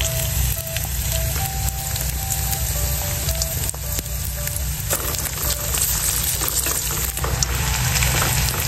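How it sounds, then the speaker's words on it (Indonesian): Shallots go into hot oil with garlic and fry with a continuous dense, crackling sizzle that stays loud and even throughout, with no talking. "Bawang putihnya sudah harum, masukin bawang merah."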